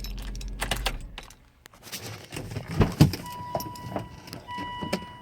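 Keys jangle and click against the ignition of a 2007 Volvo XC90 V8 Sport, a few short metallic rattles close by, followed by a faint steady electronic chime tone inside the cabin.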